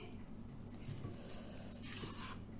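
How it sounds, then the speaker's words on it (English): A spatula scraping around the sides and bottom of a bowl of chocolate cake batter with eggs mixed in, a soft continuous rubbing scrape with brief louder strokes, close and alone. "Scrape the sides and the bottom."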